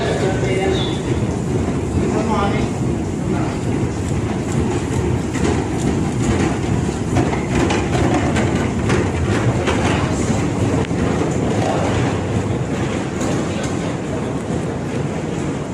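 Steady, loud rumbling roar of a Budapest subway train riding through its tunnel, with continuous wheel and rail noise and faint rattles throughout, unbroken for the whole stretch.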